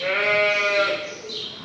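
A sheep bleats loudly and close by during lambing, one long wavering call lasting over a second, then fading into softer barn noise.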